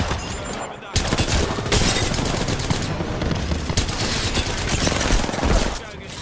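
Dense automatic gunfire rattles almost continuously through an Apex Legends firefight, loud and close, with rapid bursts layered over one another and a brief pause near the start.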